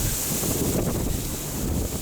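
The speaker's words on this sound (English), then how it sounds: "still really windy" Strong wind blows hard across the microphone at an old Boston and Maine Railroad station, a loud continuous rushing buffet with no voices.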